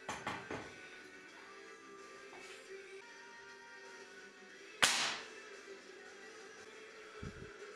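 One sharp crack of a Smersh R10 rifle firing its second zeroing shot, loud and close, rising from a quiet background with a few small clicks before and after.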